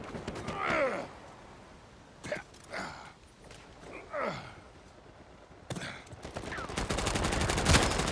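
Gunfire in an Uncharted 4 multiplayer match comes in several short bursts separated by quieter gaps, and the last few seconds turn to denser rapid shots, with a few faint vocal sounds mixed in.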